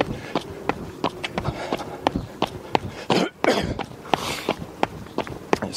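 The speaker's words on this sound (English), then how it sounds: "I just clear my throat" A runner on a neighborhood 10-mile run clears his throat with a short rough burst midway, set among quick, rhythmic footfalls that patter on before and after.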